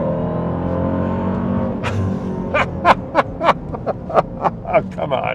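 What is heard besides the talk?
Dodge Durango Hellcat supercharger whine and exhaust roar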